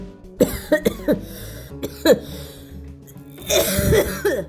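Several sharp, loud coughs come in quick bursts, some with a throaty, raspy edge, spread irregularly across a few seconds.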